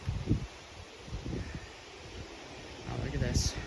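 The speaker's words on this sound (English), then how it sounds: "See and hear the gusts of winds there." Gusts of wind roar across the microphone as a thunderstorm gust front arrives, broadband rushing rising and falling in surges, loudest near the end, with rustling and occasional voice underneath.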